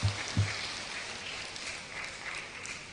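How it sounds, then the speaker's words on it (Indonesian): An audience applauds at a university rector inauguration at UNHAS, a soft, steady patter of many hands clapping in a large hall, distant and fairly faint, with a couple of low thumps at the start. "Tepuk tangan untuk kita semua, seluruh sivitas akademika UNHAS."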